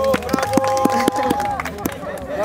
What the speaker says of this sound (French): on va également applaudir pour lui